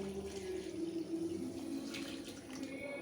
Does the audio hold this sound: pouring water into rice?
yes